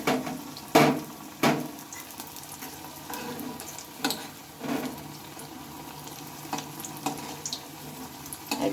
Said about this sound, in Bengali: খুব তাড়াতাড়ি এগুলো কিন্তু ভাজা হয়ে যায়।